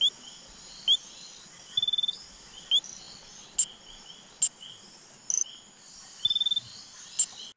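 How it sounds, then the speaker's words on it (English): Small frogs calling: short bursts of high, rapid trilling chirps repeat every second or so over a quiet night background, interspersed with sharp single clicks. "several different small frogs balloon out the membranes at their throats and call"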